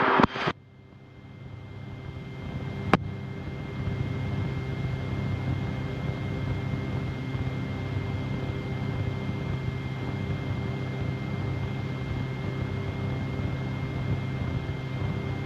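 A Rotorway helicopter flies about a mile south of a rectangular airstrip at 200 feet. Steady, even cabin drone continues throughout, with a short sharp click near the start.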